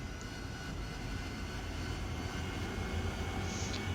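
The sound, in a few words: AV-8B Harrier jet engine throttling up, DCS World video game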